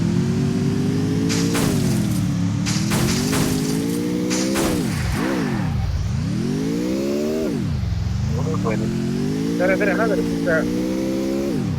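A Free Fire game vehicle's engine drones loudly and steadily throughout, its pitch rising and falling as the car accelerates and eases off, with clattering and gunfire-like bursts layered on top.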